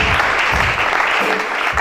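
A church congregation at a worship service applauds, a full, steady round of clapping that fills the short moment at close range with no talking over it.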